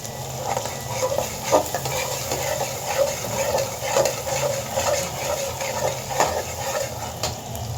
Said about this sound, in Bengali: তৈল দিয়ে দিলাম গরম হয়ে গেছে পেঁয়াজ দিয়ে দিলাম